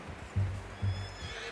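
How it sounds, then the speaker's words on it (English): A horse in the Red Dead Redemption video game whinnies in two short, close, fairly loud bursts with a faint rumble between them. "Get that horse in line, Arthur."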